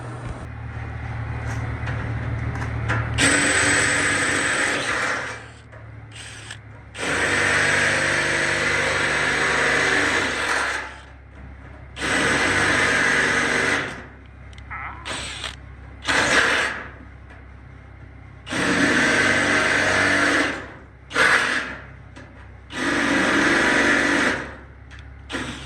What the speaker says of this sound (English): we're fixing to start drilling some of them out